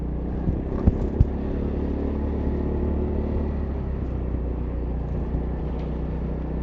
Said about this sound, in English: the bike is passing the sunken drain cover test